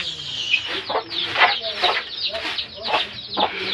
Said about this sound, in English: So this is how we clean where the chicken sleeps.